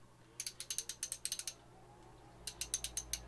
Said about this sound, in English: Going on to the ratchet.